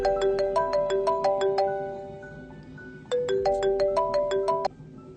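A mobile phone ringtone plays a bright, repeating electronic melody of quick chiming notes, two phrases separated by a brief dip, clear and fairly close with no talking.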